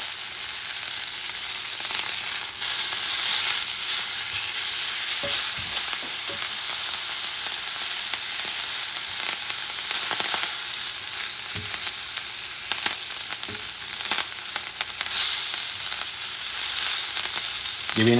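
A bison sirloin steak sizzles steadily in a cast iron pan for a long stretch, with occasional scraping and shifting as it is moved around.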